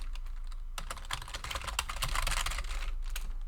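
A word is typed on a computer keyboard: a quick, close burst of crisp keystrokes over a low steady hum.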